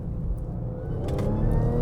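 Engine roar of a 400 AWHP B8.5 Audi S4 with a dual-clutch automatic pulling hard in second gear through a hairpin, a steady, fairly loud drone heard from inside, with no talking.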